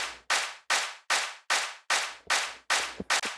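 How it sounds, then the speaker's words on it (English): A punchy stadium clap drum sample in a rock dubstep track, struck in a steady run of eight even hits with sharp attacks and short decays, a couple of quick extra hits near the end, loud and dry with no voices. "our non-cinematic drums, which is mainly going to be like a stadium clap."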